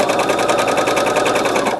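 A sewing machine stitches a French dart, its needle hammering in a fast, even, loud rhythm close by, with no talk over it.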